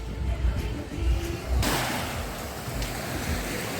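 Sea waves on Odesa beach, a low rolling surge of surf with a rushing wash breaking in midway, steady and fairly close, with no voices.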